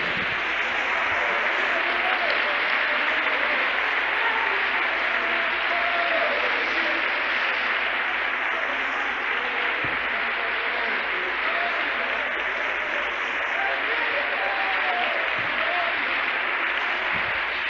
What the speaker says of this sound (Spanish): Eso sí merece un buen aplauso